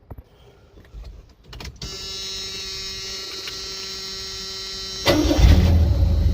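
A 1985 Chevy S10 pickup with a shimmed starter, heard as a few faint clicks and then a steady electric whir of the starter cranking, which ends as the engine catches with a louder low rumble, close and loud.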